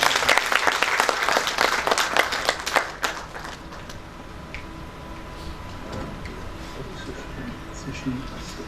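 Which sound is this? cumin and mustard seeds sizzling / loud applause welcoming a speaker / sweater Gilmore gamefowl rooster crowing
loud applause welcoming a speaker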